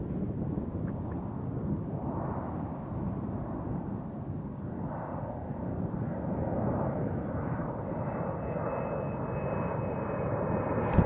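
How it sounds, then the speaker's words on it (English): A fixed-wing airplane passes overhead, its engine a steady, broad droning roar that holds for the whole stretch, with some wind buffeting the microphone and no talk. "There's a plane."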